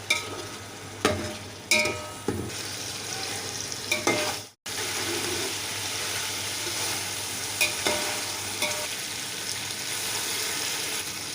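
Beef and potatoes for pulao fry with a steady sizzle in a pot. A spoon stirs and scrapes with several sharp knocks before a brief break, then the frying continues close and unbroken.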